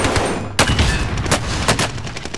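Loud, close gunshots in a battle royale shooter video game, a few sharp cracks spaced irregularly against a dense background of combat noise, with no talking.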